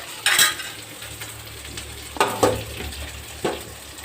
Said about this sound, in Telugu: ఏం తర్వాత గుడ్లు చూడండి ఫ్రెండ్స్, 4 గుడ్లు, కొత్తిమీర కూడా వేస్తాను.